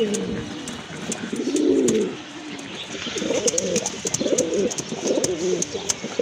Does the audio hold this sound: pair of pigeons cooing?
yes